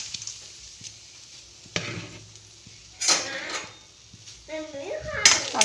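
Cowpea seeds tip into a hot wok and are stirred with a metal spatula, giving a few sharp scraping clatters and soft sizzling bursts, close and moderately loud.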